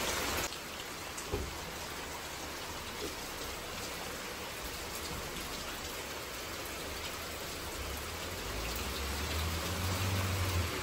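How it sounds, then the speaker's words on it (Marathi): Steady rain pours down continuously at close range, a dense even hiss of drops on surfaces with no voices, set during the evening outdoors near a parked vehicle. "सकाळच्यान नाशिल्लो पावस, आतांच येयला."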